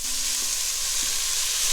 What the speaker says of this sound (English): drop into a roaring hot Dutch oven right on the stove and listen to those puppies sizzle